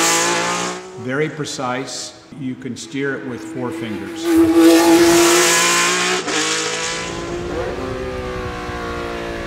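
Ferrari 312PB race car engine screaming at high revs, with sharp rising and falling gear changes and a long sustained howl up close, while someone speaks over the opening seconds.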